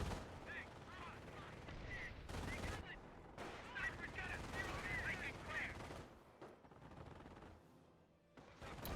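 Rapid gunfire from a machine gun bunker in a PhoenixMod strategy game, fairly quiet and mixed with other battle noise and bursts while a commentator talks over it.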